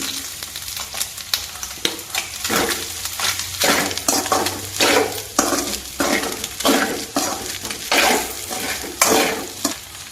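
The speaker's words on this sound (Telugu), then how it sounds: "ఇప్పుడు ఈ మాత్రం ఫ్రై అవ్వాలండి అలాగే నేను ఇప్పుడు కారం వేస్తున్నానండి రెండు స్పూన్ల వరకు" Goat blood fry sizzles in a pan as chili powder goes in, with repeated scraping stirs over a steady, close crackle and uneven bursts of louder sizzling.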